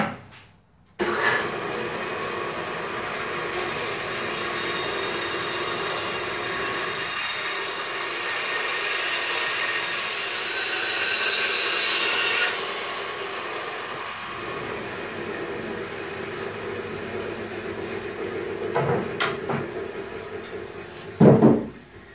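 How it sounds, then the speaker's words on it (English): A bandsaw makes a simple cut through wood for a telescope mirror box, with a steady, loud motor-and-blade drone whose pitch rises and falls as the cut progresses, and a few knocks near the end. "I'm going to go ahead and just make a simple cut on the bandsaw."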